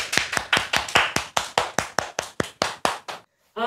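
A teacher claps hands to close a high school math lesson: about fifteen sharp, evenly spaced claps in a steady rhythm, close and clear with no talk, ending in a brief silence.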